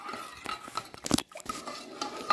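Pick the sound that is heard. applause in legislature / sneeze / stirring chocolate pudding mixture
stirring chocolate pudding mixture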